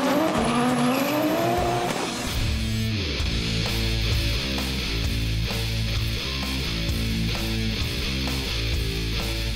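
Drift cars tear around a custom course inside ASB Baypark Stadium in Tauranga during a D1NZ drifting championship round, engines screaming at high revs with a continuous loud roar and stuttering limiter bursts, tires squealing throughout.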